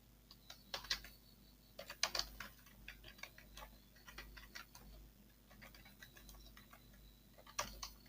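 Keystrokes on a computer keyboard while an email is typed into Outlook, arriving as quiet, irregular bursts of clicks with short pauses between words over a steady low hum.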